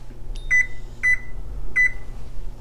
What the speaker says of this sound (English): Close it up, set the timer for 30 minutes.